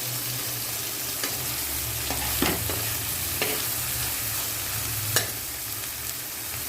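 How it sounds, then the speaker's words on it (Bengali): Dried fish fries in a pan with a dense, continuous crackling sizzle, steady and close, over a low background hum, with a few sharp clinks. "তো আমার মাছটা একদম লাল লাল হয়ে ভাজা হয়ে গেছে"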